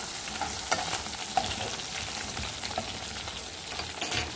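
Steady sizzling of meat frying in oil in a hot pan, with occasional sharper clicks and scrapes of stirring throughout.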